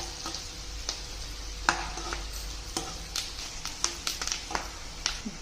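Curry leaves frying in oil until brown for a potato masala gravy, a soft steady sizzle under frequent clicking stirs and scrapes of a spoon in the pan, close and fairly quiet.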